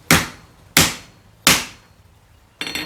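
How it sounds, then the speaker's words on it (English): A hammer lands three sharp, evenly spaced blows, each ringing briefly before fading, followed by a fourth hit just as the sound ends. "So when you're hammering"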